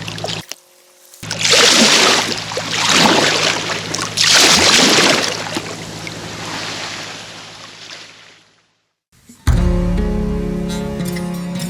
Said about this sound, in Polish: Słabe fale.